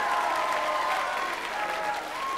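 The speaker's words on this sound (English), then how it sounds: "Give him another round of applause" Loud, dense applause from a television studio audience at a 1995 quiz show, continuous clapping throughout with a faint voice or tone running underneath.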